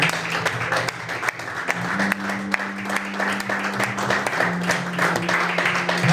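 Church congregation welcoming a pastor with sustained applause and clapping, a steady dense wash of hands with a held musical tone beneath and some voices in the hall.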